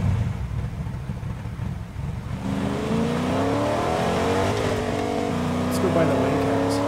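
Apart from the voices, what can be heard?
car driving in the video game Fortnite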